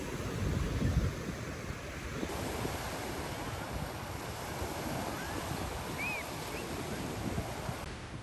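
Ocean waves wash onto a beach in Vietnam, a steady wide roar of surf mixed with wind rumbling on the microphone.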